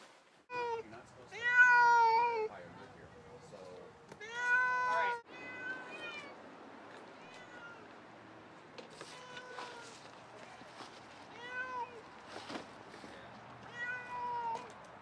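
Many cats meow repeatedly in a cat hoarding house, with loud, drawn-out cries near and farther off that overlap with faint shuffling and background murmur.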